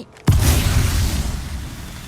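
A grenade explodes in the video game Apex Legends Mobile: a single sudden loud boom, followed by a rumbling, hissing decay that slowly fades over a couple of seconds.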